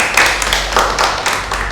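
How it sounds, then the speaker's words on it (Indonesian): Classroom applause for a student group, a small number of hands clapping in loose bursts, close and fairly loud over a low steady hum. "Beri tepuk tangan untuk kelompok 3."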